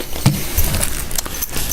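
Small keys for an ESP LTD BK600 guitar case are handled close up, with a few light metallic jingles and clicks over a quiet room background.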